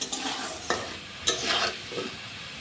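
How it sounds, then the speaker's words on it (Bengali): Potatoes seasoned with salt and turmeric frying in oil in a hot kadai, soft sizzling broken by a few sharp stirring scrapes and clatters, quiet and close. "নুন হলুদ দিয়ে দিয়েছি, এখন লাল লাল করে আলুগুলিকে ভেজে নেব।"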